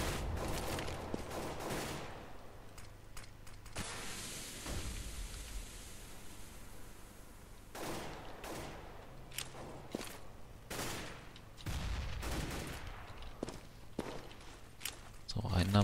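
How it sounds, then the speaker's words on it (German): Rapid gunfire from Counter-Strike on the de_inferno map during a competitive match, sharp shots and bursts scattered through the stretch alongside footsteps, set under steady game noise and commentary talk. "Oh, schöner Schuss von Kerrigan."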